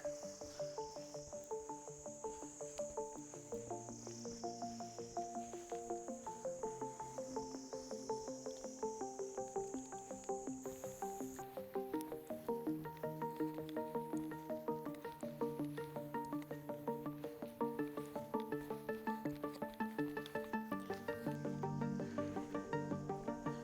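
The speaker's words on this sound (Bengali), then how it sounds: "আর ঝিঝি পোকার ডাক।" A steady, shrill chorus of crickets fills a dense forest on the Kartikswami trek, with continuous high buzzing and occasional croaking frogs mixed in.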